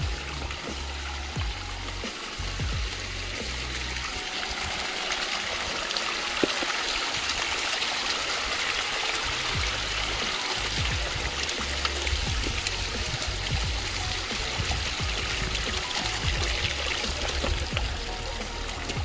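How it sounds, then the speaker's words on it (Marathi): Heavy monsoon rain and running water at Tung fort make a constant dense hiss and trickle, close and even throughout, with scattered patters and no clear talking. "जबरदस्त पाऊस येतोय जातोय."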